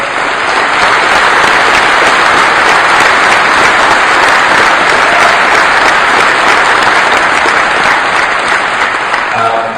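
Loud, sustained applause from a large audience at a Fanfest keynote, continuous clapping filling the hall for about ten seconds.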